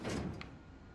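A door closes with a soft thud followed by a short click of the latch, nearby and fairly quiet, leaving quiet room tone afterward.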